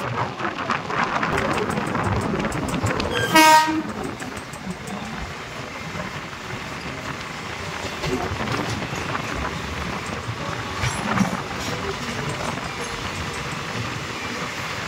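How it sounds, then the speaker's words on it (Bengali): Saraighat Express, train 12345 on the Guwahati to Howrah run, rumbles past under steady broadband noise that sounds like rain, with a brief louder surge early on; no voices. "সামনে থেকে ছুটে আসছে ট্রেন নাম্বার 12345 সরাইঘাট এক্সপ্রেস।"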